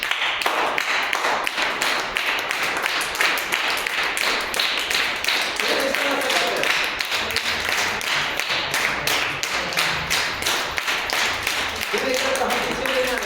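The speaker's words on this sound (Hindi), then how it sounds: "फिर ताली में इस तरह से हम लोग आरती में करते हैं" Rhythmic hand clapping in the style of aarti worship, a steady fast train of sharp claps continuing throughout, with a voice speaking briefly in the background.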